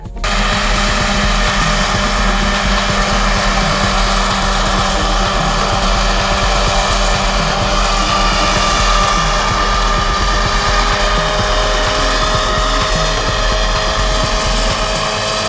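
Tractor running with a Kverneland 5087MN mower combination cutting grass across an 8.7 metre width, a loud steady engine and machinery drone with constant whirring that holds unbroken throughout, no voices.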